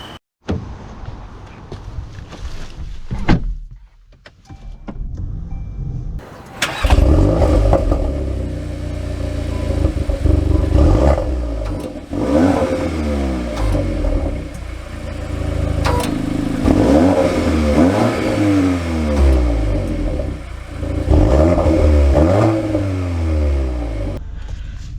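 2024 VW Golf R engine starting and accelerating, with a loud burst around three seconds, then a steady roar and repeated rising revs through the gears, fairly close and alone without talk.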